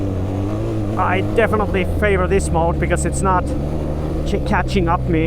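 A BMW R 12 G/S motorcycle engine pulls hard under acceleration, its steady low drone running through the whole stretch while someone talks continuously over it.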